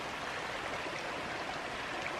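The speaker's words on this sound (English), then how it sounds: "There's another view of that spring. Just rushing out from underneath the boulder" Spring water rushes out from under a boulder into a creek in Bankhead National Forest, Alabama, making a steady, broad wash of flowing water that carries on evenly with no speech.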